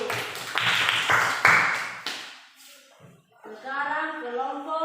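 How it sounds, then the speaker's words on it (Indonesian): Classroom students applauding group B after a presentation; a short burst of clapping fills the first two seconds, then fades as children's voices take over. "beri tepuk tangan dulu untuk kelompok B"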